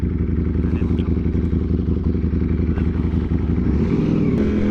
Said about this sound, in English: I just wanted to give you a little first ride with the new 360 cam and Kevin's new bike